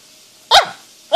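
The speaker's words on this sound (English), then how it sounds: "Are you a good dog" A single loud, close dog bark, sharp and brief, standing alone against quiet room tone, with the start of another at the very end.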